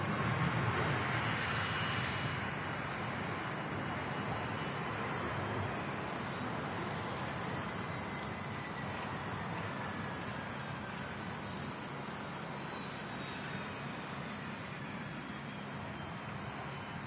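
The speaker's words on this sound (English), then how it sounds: "It's Tui. 737 MAX 8 on the roll." A Tui Boeing 737 MAX 8 takes off from runway 23 left at Manchester Airport, its engines a steady, broad roar that holds through the whole stretch, fairly distant and slowly fading.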